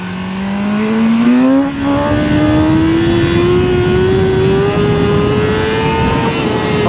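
A BMW M1000R motorcycle accelerates hard with traction control off, its loud close engine note climbing steadily in pitch through one long rising pull, with a brief dip around a gear change.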